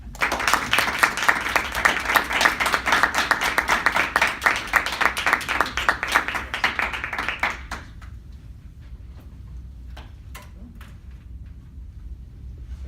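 Audience applause at a talk welcoming speaker Matthew Boyce: dense, steady clapping from a crowd for about eight seconds, then it dies away to a quiet room with a few scattered claps.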